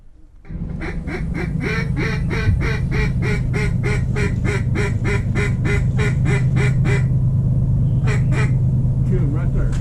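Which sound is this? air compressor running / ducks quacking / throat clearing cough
ducks quacking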